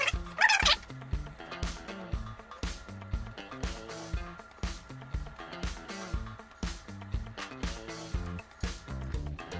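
Pet dog in a room during an at-home hair styling session, giving short yips and whimpering barks in a repeated pattern, close by and fairly faint.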